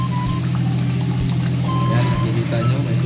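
Water drains from a fire hose pipe at a fire hose cabinet, a steady close pouring and trickling flow that runs continuously over a low background hum.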